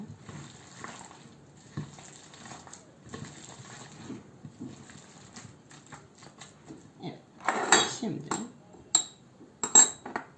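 Utensils clinking and scraping in a bowl while stirring a celery salad with apple, quiet and intermittent at first, then louder bursts of clattering near the end, with some talk underneath.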